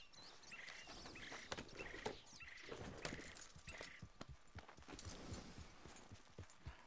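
Horse hooves clip-clop steadily in Red Dead Online, a blue-coated mount walking at an even rhythm, fairly quiet and close, with faint ambient sounds around it.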